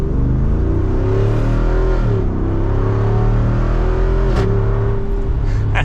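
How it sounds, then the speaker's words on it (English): A 2024 Jeep Wrangler 392 Rubicon Final Edition with a Hemi V8 drives off at part throttle, its exhaust rumbling loud and close, the note rising and easing through shifts with no talking. "You gotta love a Hemi V8 in a Wrangler."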